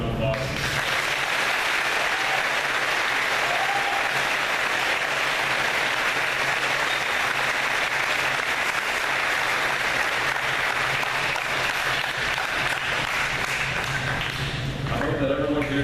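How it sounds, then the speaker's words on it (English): A school audience at Dominion High School applauds a keynote speaker, with sustained, loud clapping from many hands that fills the room evenly before tapering off at the very end. "Can we please have another round of applause?"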